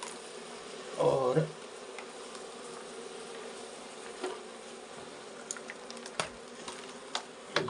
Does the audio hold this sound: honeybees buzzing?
yes